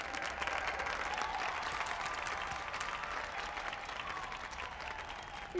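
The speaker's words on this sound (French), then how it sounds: "Et on applaudit encore plus fort la ravissante Tiny" An audience applauds a singer after her performance, with sustained, dense clapping at moderate distance, a steady crackling wash with faint crowd murmur beneath, tapering slightly toward the end.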